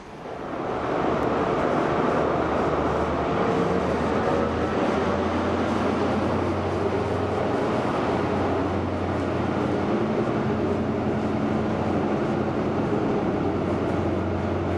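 Long-distance train journey toward Penzance, a continuous low rumble and hum of a moving railway carriage, steady and unbroken throughout with no voices.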